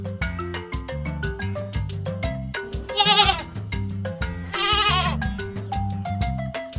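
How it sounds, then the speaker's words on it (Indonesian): A goat bleats in two loud, wavering cries over a plinking children's tune with a steady bass line. "kambing"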